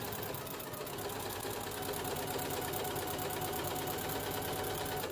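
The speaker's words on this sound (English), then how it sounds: "And I'm going to back stitch at the start and stop and then just work my way around." Sewing machine back stitching through a minky blanket binding, a close, continuous fast mechanical whir and rattle at steady loudness with no talking.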